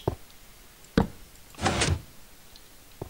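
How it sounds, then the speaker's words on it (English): A lever in a video game custom map is pulled, giving a couple of sharp mechanical clunks followed by a longer sliding, grinding movement, then a faint final knock, heard close with no talk. "I heard a lever."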